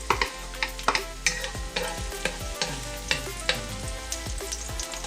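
Garlic sautés in a hot pan with a continuous sizzle, broken by regular sharp clinks and scrapes of a spatula against the metal, close up and fairly loud.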